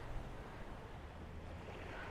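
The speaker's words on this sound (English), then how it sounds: "After about a 10-minute walk, we've reached the ocean." Steady ocean surf rolls onto a beach on a mildly windy day, a continuous broadband wash with low wind rumble, fairly distant and unbroken by voices.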